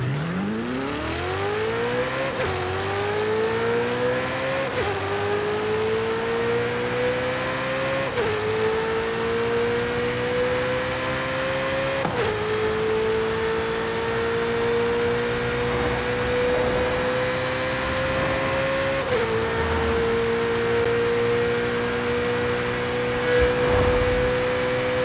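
A Ferrari 488 Challenge race car engine in Forza Horizon 5 climbs through the gears, each rising whine cut by a quick shift, then holds a steady high-rpm drone with tire and road rumble beneath.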